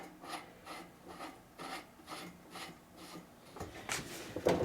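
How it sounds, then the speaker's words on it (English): A tub nut threaded back by hand onto a GE Hydrowave washer, heard as a close, rhythmic series of short rasping scrapes, about eight even strokes followed by a few louder scuffs. "And now we can put the tub nut back on. Goes on counterclockwise."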